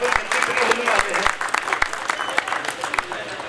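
Audience at the Buildcon Pro Expo at Mansingka Campus applauds steadily, a dense, loud wash of clapping with sharp individual claps standing out, and talk mixed in underneath.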